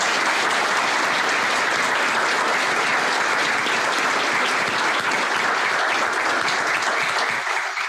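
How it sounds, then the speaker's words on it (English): An audience applauds the Chief Justice and Justice Breyer at a constitutional law conversation: dense, sustained clapping from a large crowd, steady and loud for the whole stretch, fading slightly at the very end. "I'd like a round of applause for both of them"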